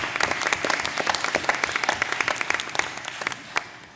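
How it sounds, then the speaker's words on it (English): An audience claps for a parent and student, brisk and sharp, the individual claps close and distinct, holding steady for a few seconds before easing off. "Big applause to you and the student."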